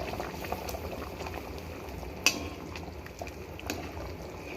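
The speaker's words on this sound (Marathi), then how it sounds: "तुम्हाला जेवढा रस्सा घट्ट पातळ हवा असेल तेवढं तुम्ही यामध्ये पाणी घालू शकता" Sandge curry simmering at a steady boil in a pot after hot water goes in, a continuous low bubbling with a few faint clinks, heard alone.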